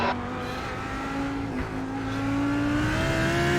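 GT race car engines in a sim racing game at Phillip Island hold a steady, loud drone that slowly rises in pitch as the car accelerates, with no voices.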